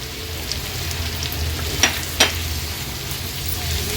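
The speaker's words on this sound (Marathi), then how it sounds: "लगेचच हा बारीक चिरलेला कांदा आपण यात ॲड करणार आहोत" Finely chopped onion fries in oil with crushed black pepper for a black pepper prawn tawa masala, a steady close sizzle with two brief stirring scrapes partway through and no talking.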